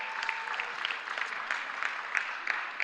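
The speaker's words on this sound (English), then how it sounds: "Let's give them a round of applause for sponsoring this flight" A modest audience at a spelling bee applauds a sponsor, light, fairly faint clapping with distinct individual claps over a thin, continuous patter lasting a few seconds.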